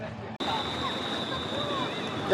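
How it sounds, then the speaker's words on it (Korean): Waves churn in the wave pool at Caribbean Bay water park, a steady broad wash of water with crowd noise and a faint voice beneath, rising slightly at the end. "또 파도 올라오는나 보다"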